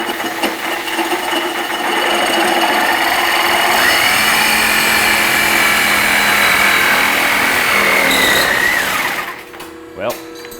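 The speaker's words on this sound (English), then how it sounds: "grab the Sawzall, and I'm going to cut it down as straight as possible down here" A Sawzall reciprocating saw cuts through an exhaust Y pipe, running loud and steady with a buzzing metallic rasp for about eight seconds before winding down and stopping.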